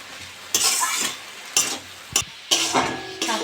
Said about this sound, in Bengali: গ্যাসটা কম করে আস্তে আস্তে শাকটা ভালো করে ভেজে নেব।